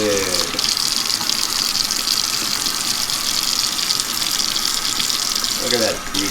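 Warm tap water gushes steadily into a sink while a tie-dye shirt is rinsed under it, a loud close rush of water with a brief voice near the start and end.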